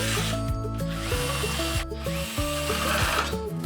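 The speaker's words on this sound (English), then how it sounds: "Using a magnetic screwdriver will make it easier to screw in the screws." Whirring of a power screwdriver with a magnetic tip driving screws into the cover plate of an EraSmart A2 UV DTF desktop printer, a steady motor drone that shifts pitch in steps as each screw tightens, with a short break midway.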